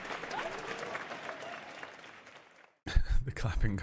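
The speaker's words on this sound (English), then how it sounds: "The clapping comes through on the fucking stupid thing." Hand clapping from a group, a dense, steady patter of many claps that gradually fades, then breaks off into a short silence before a voice speaks loudly.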